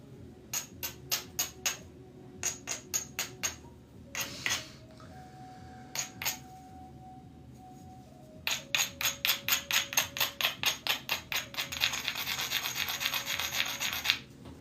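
Flintknapping, with a tool striking and pressing flakes off a stone point: quiet, close clicks and scraping strokes in rapid rhythmic runs, broken by pauses and a sustained rasping passage, with no talk.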